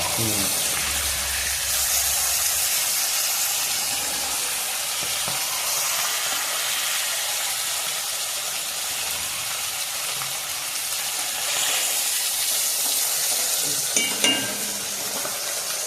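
Pomfret fish frying in oil in a pan, a constant close sizzle throughout with occasional clinks of a utensil and brief faint voices.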